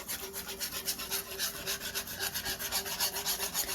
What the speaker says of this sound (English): Start whisking again.